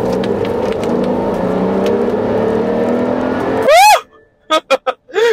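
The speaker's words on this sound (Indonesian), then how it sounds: "itu suara mesinnya rawangannya tuh bener-bener mantep banget ya" A BMW X5 SUV with a 3000cc six-cylinder turbo engine accelerates hard on an empty road, its loud, rising drone climbing steadily before sharp revving bursts and gaps near the end.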